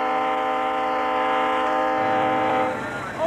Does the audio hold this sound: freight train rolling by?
yes